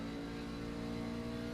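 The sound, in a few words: racing truck engine revving on the throttle, from a video game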